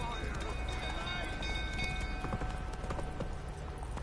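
The horse Roach gallops in the video game Witcher 3, a rapid, continuous clip-clop of hooves at mid-distance, with a voice speaking over the running hoofbeats.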